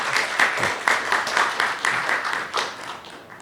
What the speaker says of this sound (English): Let's give Father Layug a warm applause.